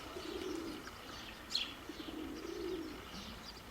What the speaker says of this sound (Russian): а те голуби вон, пожалуйста